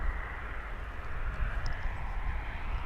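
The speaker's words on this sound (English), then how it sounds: "coming through the sky, is Delta Flight 1041 from Los Angeles. It's an A320." A Delta Airbus A320 airliner on approach to DFW airport makes a steady, moderately loud engine roar and rushing wash that holds evenly throughout.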